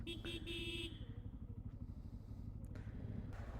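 Motorbikes from a group of six touring riders set off one after another on a rough mountain road in East Sikkim, with engines revving and puttering close by and a rattling pulse running through.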